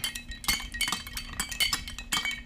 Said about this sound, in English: So let's get a stir here and let's just stir this up.